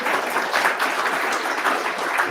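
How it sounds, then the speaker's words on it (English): Loud, sustained applause from a large crowd at an AI tech meetup in Lithuania, dense and steady throughout with no pauses. "round of applause for all of you for being here"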